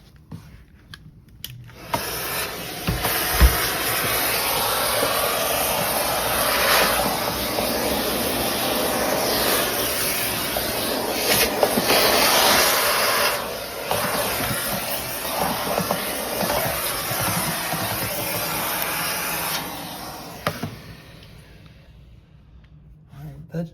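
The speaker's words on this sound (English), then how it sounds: "get your vacuum out and let's clean up all the loose stuff" A steady, loud vacuum whine with airy hiss runs for about twenty seconds while cleaning a refrigerator coil, with brief bumps and scrapes, then cuts off.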